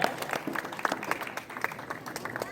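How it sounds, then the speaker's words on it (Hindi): Audience applause at an International Mother Language Day award ceremony, a dense patter of many hands clapping steadily at moderate distance, with a voice speaking briefly over it. "तालियां बजती रहनी चाहिए दोस्तों।"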